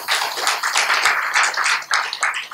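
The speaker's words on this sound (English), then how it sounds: "with a big round of applause" Sustained audience applause after a session on quantum physics, neuroscience and Buddhist philosophy, a dense steady clatter of many hands clapping at once, close and loud throughout with no voices over it.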